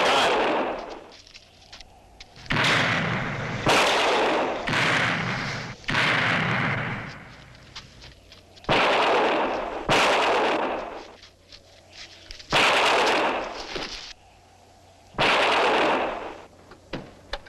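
Gunfire in a horror film set around a mine, a series of heavy booming shots fired in irregular bursts over about seventeen seconds, loud and echoing, with pauses in between.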